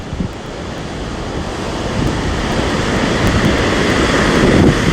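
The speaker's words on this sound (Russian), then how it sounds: "О, какие волны." Storm waves rolling onto the Black Sea shore at Sochi under strong wind, a loud continuous roar of surf and gusting air buffeting the microphone, swelling louder toward the end, with no voices.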